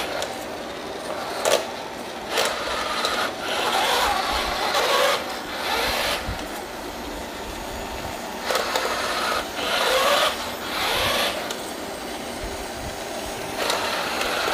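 An autonomous floor-cleaning robot runs with its mopping roller and drying fan, a continuous mechanical whir punctuated by repeated brushing, rasping bursts as it moves, close and fairly loud with no voices.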